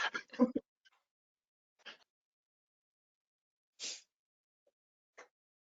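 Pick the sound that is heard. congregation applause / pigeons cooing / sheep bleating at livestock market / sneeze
sneeze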